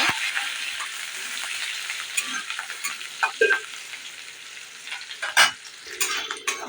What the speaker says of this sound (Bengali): কাঁচা লঙ্কা রসুনটাকে আমি ভালো করে ভেজে নেব